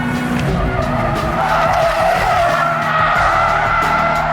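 A car slides sideways on a race track with its traction control switched off, tyres skidding and squealing continuously under a loud engine note for about four seconds, with no talk.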